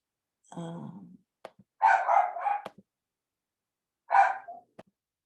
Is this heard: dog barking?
yes